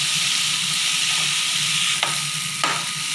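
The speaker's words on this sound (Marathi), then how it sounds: "टोमॅटो चांगले परतून घ्यायचे" Chopped tomatoes sautéing in a hot pan for soybean keema, a steady close sizzle with two brief scraping stirs of a spatula near the end.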